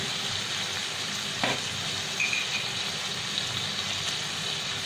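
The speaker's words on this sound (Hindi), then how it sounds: "Give it a good mix." Tomato masala for paneer butter masala sizzles in a pan while being stirred, a steady moderate frying hiss with a brief spoon scrape and light clinks, close and without talking.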